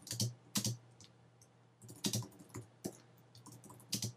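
Computer keyboard typing comes in quiet bursts of key clicks separated by short pauses, close and faint with no talking.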